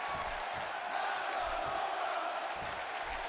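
Arena crowd in the WWE 2K16 wrestling video game, a steady, fairly distant roar with faint rhythmic chanting pulses and no clear individual voices.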